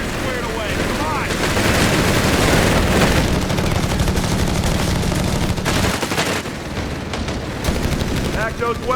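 Heavy machine gun fire and other weapons in a Company of Heroes 3 battle, a dense, continuous rattle of shots with distant booms, loud throughout, with soldiers' voices mixed in.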